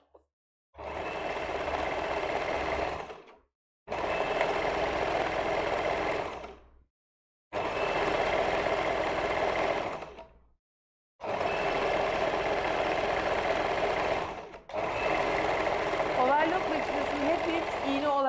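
A coverlock sewing machine stitches fabric in five loud, steady bursts of rapid mechanical whirring, each lasting a few seconds and separated by short silences.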